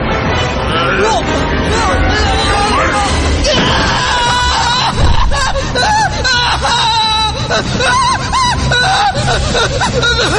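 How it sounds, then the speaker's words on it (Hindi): A horror-story sound effect of a man shrieking as he burns, loud, layered screams, groans and wails piling over one another, continuous and chaotic throughout. "बड़ा भाई जब फायर प्लेस से बाहर निकला तो वो मशाल की तरह जलता हुआ चीख रहा था।"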